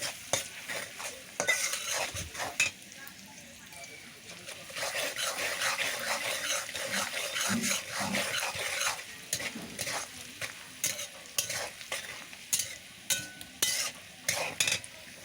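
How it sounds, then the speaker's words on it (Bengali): Chopped onions fry in hot oil in a wok for a chicken curry dinner, giving a steady crackling sizzle broken by repeated scraping stirs and clinks of the utensil against the pan, with no talking. "পরিমাণ মতো তেল দিয়ে আমি তেলটা গরম হতে দিলাম। তারপরে দিয়ে দিলাম অনেকগুলো পেঁয়াজ কুচি"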